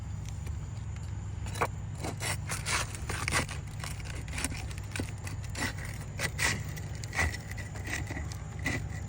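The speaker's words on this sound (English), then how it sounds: "we're going to get started by trying to remove the nails under the shingles a couple of rows above this" Nails being pried out from under roof shingles, with scattered scraping, creaking and metallic clicks over a steady low outdoor hum, close and moderately loud without talking.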